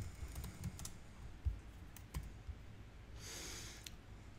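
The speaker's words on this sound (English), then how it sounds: "Click G on your keyboard" Computer keyboard typing, a few quiet scattered key clicks over faint room noise, with one short burst of softer rustling near the end and no talk.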